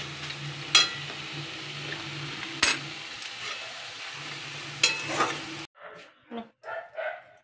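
Radish ghonto frying in a pan gives a steady low sizzle through most of the clip, broken by a few sharp clicks, before it cuts off into a few short bursts of talk.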